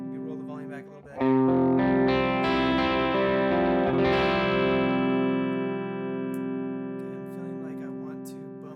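An electric guitar played through a Helix AC30 amp model rings out in a chord after a brief pick, sustaining and slowly decaying with rich overtones, close and fairly loud.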